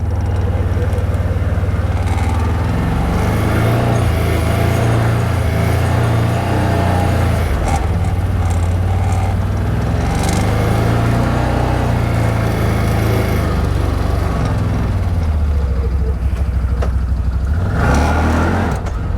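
A CFMOTO off-road vehicle fitted with an RNG clutch kit roars and accelerates, its engine droning loud and close with rising and falling revs throughout and a sharp rev near the end.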